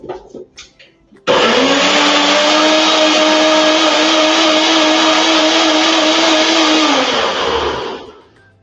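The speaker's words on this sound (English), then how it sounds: "I'm going to blend this up," A kitchen blender whirs loudly and steadily for about seven seconds while blending chili, starting abruptly after a few faint clicks and tapering off as it stops.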